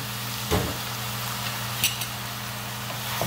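Ground turkey sizzles in a hot pan with a steady close frying hiss, broken by a few sharp clicks and scrapes of stirring; no voices.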